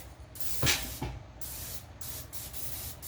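Several hissing bursts of cooking spray from an aerosol can into a pan, short and repeated, close by with brief pauses between them.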